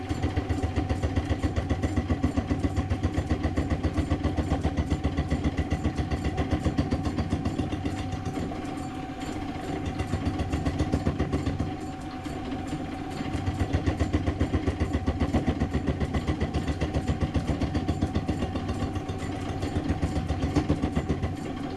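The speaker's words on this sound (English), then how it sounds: "This lathe's hardly big enough to do this sort of work." A metal lathe runs continuously, a steady loud mechanical drone with a rhythmic pulsing and a slight dip in load partway through, with no voices.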